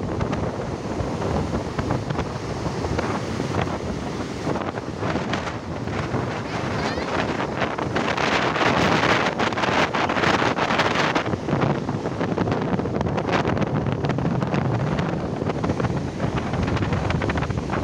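Large ocean waves surge and crash at sea while strong wind buffets the microphone, a continuous loud roar that swells and recedes for the whole stretch, with no voices.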